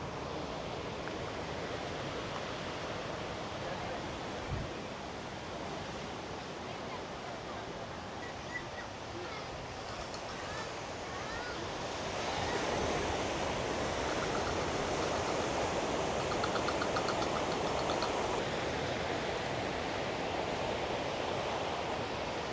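Sea waves wash onto the shore at a Bali seaside temple, a soft, steady surf hiss that grows fuller and louder about halfway through, heard from a moderate distance with no speech.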